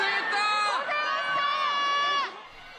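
Large welcoming crowd cheering and shouting for returning World Cup players, a dense roar of many voices with rising whoops, fading near the end.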